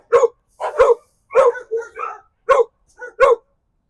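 A dog barking close by in short, sharp bursts, about seven barks in uneven pairs and singles with brief yips between, loud and clear against silence.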